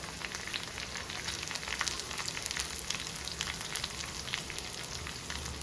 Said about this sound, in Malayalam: ചെറിയ കഷ്ണം ചെറിയ ഉള്ളി അരിഞ്ഞത് നമുക്ക് ഇട്ട് കൊടുക്കാം. വറ്റൽ മുളക്,